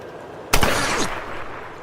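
A single sharp rifle shot in the video game Tomb Raider, fired on a PS4, a loud close crack followed by a short decaying echo over faint background ambience.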